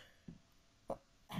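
A single cough during an online teaching session, with a couple of short throaty bursts, quiet and close, followed by a louder rough burst at the end.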